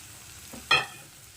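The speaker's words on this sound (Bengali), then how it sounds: "এই যে দেখুন ঝিঙে আর আলুটা যে ভেজে রেখেছিলাম তো সেটাকে দিয়ে দিচ্ছি" Fried ridge gourd and potato pieces tipped into a pan with roasted peanuts, a quick clatter and sizzle followed by a short stir, heard close and alone.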